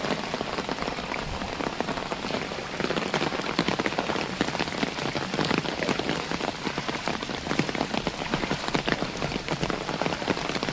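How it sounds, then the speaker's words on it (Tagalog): Heavy rain pours without pause onto a street, a dense, steady hiss of drops hitting the pavement that holds at the same loud level throughout, with no voices. "Parang 20 minutes na non-stop na ulan."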